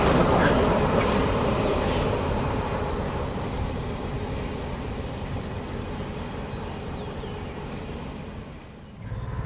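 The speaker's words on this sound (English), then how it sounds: "The train crests the grade and begins the curving path downgrade." A Santa Fe freight train cresting a grade and rolling onto a curving downgrade, its broad rumble steady at first and then slowly fading, moderately loud with no voices.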